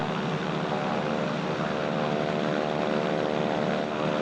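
An aircraft engine drones steadily at Spirit of St. Louis Airport, a continuous propeller-like hum at moderate distance with no pauses, and no voices.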